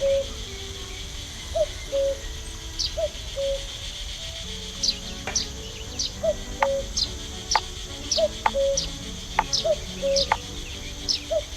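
A woodpecker calls in the video game The Night of the Rabbit: a string of short, bright chirps repeated at a fairly even pace over a soft, steady ambient background.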